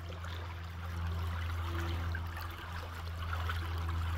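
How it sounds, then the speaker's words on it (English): A large creek in central northern Ohio, near Mansfield, at a gold-dredging spot, flows in a steady, close rushing wash with a low continuous hum beneath it and no talking. "This creek is freaking huge."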